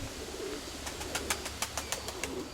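Pigeons cooing at a pigeon loft, a series of soft repeated coos and flutters close by, steady over low background noise.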